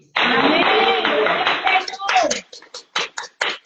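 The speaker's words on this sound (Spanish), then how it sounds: "Dame un aplauso." Congregation at a church sermon breaks into applause after a preacher's voice, the clapping starting dense and then thinning into a handful of scattered, sharp individual claps.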